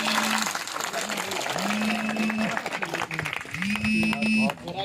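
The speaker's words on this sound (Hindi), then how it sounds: "एक बार डब्लू मौर्य के लिए जोरदार ताली हो जाए।" A crowd at an outdoor political rally in Mahadeva claps for Dablu Maurya, with busy, scattered applause mixed with loud voices and sustained tonal sounds such as horns or amplified noise, all close and dense.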